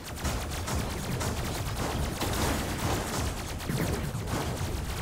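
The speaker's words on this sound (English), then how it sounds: "I got the machine gun ones, but I have enough of them to the point where they can shoot like crazy." Machine gun blasters fire in the video game Robocraft with a dense, continuous barrage of rapid shots. The loud roar stays steady throughout, with no speech over it.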